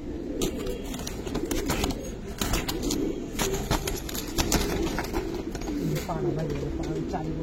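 Giribaz pigeons cooing in a loft, soft repeated low coos scattered through the clip, mixed with wind noise, handling clatter and someone talking over them.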